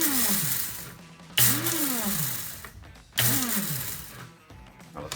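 Electric grinder whirring through flaxseed in bursts, each pass starting with a sharp rise and a swooping pitch sweep as the motor spins up, repeated about three times, loud and close with no talk.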